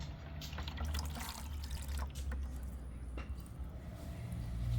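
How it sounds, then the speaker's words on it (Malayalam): Coolant mixed for a radiator flush is poured into a bucket, a steady splashing trickle running continuously close to the microphone with no talk. "നമുക്ക് ആദ്യം നമുക്ക് ബക്കറ്റിലേക്ക് കൂളൻ്റ് ഒഴിക്കാം"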